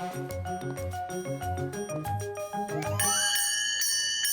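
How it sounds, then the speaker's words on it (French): Cartoon bell ringing, a bright jingling and tinkling with repeated metallic dings over a busy music bed, rising to a louder, shimmering ring near the end. "C'est moi qui vais faire sonner la cloche."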